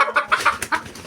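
Chickens clucking inside a hen house: a quick run of short, close clucks in an uneven rhythm, with no talking.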